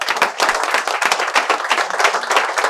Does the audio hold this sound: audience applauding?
yes